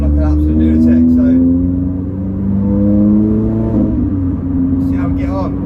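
A Renault Clio fitted with a rear K-brace hums steadily as it is driven through corners, the engine note rising and falling, with someone talking over it at the start and end.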